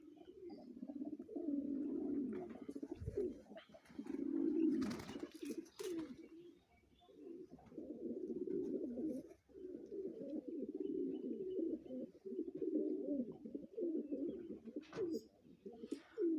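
Pigeons kept in an aviary coo in repeated low, throaty phrases, close and fairly quiet, with several birds overlapping and a few brief wing flutters and knocks between calls.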